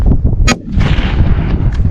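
Rifle shots fired at a deer during a South Dakota hunt, a sharp loud crack followed by a booming echo and rumble rolling across open country, close and with no talk.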